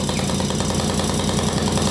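Small dirt bike engine idling after repairs, a steady rough low putter close by with no voices.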